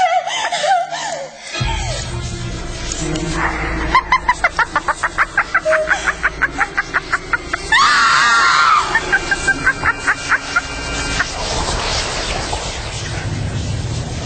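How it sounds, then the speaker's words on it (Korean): A woman screams loudly in a Korean radio drama reading, a piercing cry set over dense, pulsing sound effects and music that fill the whole stretch. "난 비명을 질렀다"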